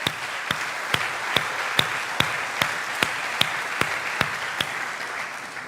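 A church congregation claps in a steady, rhythmic beat, each sharp clap standing out over a dense wash of applause that holds evenly from start to finish.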